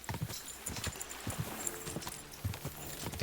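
Horse hooves clip-clop at a steady walking rhythm in the video game Kingdom Come: Deliverance II, close and moderately quiet, with faint game ambience around them.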